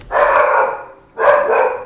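A dog barks twice, loud and close, two long drawn-out barks separated by a brief pause.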